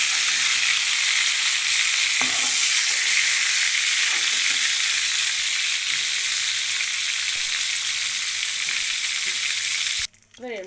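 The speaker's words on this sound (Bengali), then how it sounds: "এবার আমরা সেকেন্ড ব্যাচে আর যে কটা মাছ আছে সে কটা ভেজে নেব।" Fish frying in hot oil in a home kitchen, a steady loud sizzle throughout with occasional soft stirring clicks, cutting off abruptly near the end.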